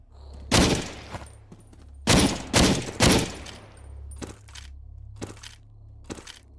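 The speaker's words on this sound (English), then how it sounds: "Are you still using that shotgun?" Shotgun blasts in the VR survival shooter SURV1V3, several sharp booming shots spaced irregularly, some in quick pairs, over a low steady hum with fainter distant shots between.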